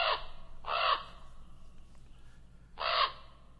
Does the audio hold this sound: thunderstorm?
no